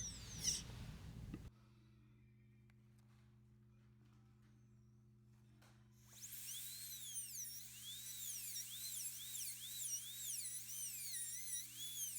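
A dental drill with a 1 mm diamond burr cuts an upper molar for a full metal crown preparation. It gives a high, wavering whine that starts about halfway through and runs steadily to the end, with a brief burst of noise at the very start.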